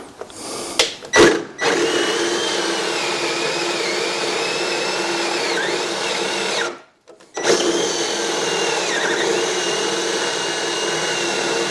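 A power drill bores 1.25 inch dowel holes into a wooden workbench, whirring loudly and steadily for long stretches with a short stop near the start and another brief pause midway, free of talk.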